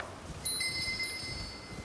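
A small bell in Elden Ring rings briefly and faintly, with a few clear metallic tones holding on after the strike over a quiet, rustling background.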